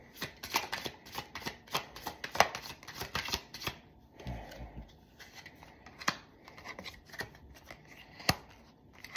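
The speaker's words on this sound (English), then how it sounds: "we're going to pull a few cards" Tarot cards being shuffled by hand, a quick series of soft riffling and slapping bursts in an uneven rhythm, close and fairly quiet with no voices.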